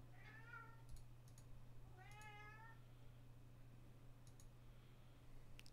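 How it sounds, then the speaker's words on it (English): A cat meows in a backyard, two clear drawn-out calls about a second apart, set against a steady low electrical hum with faint clicks like keyboard typing nearby. "I hear some cats in the backyard."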